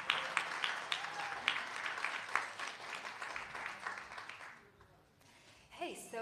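An audience applauds a teenage singer-songwriter at a pop showcase in a live music venue, with dense, steady clapping that carries on for several seconds before tapering off, and some brief voices near the end.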